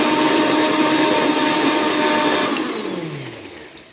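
An electric mixer grinder whirs steadily as it whips yogurt in its jar, a loud, close, continuous whine that winds down toward the end.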